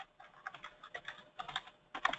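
Quick clicking keystrokes on a computer keyboard as an address is typed, a short irregular burst of light taps at close range, with no talking.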